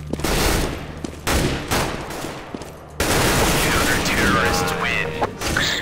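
Rapid bursts of gunfire in Counter-Strike: Global Offensive, loud and close, with several volleys of shots separated by short pauses and a dense continuous stretch in the second half.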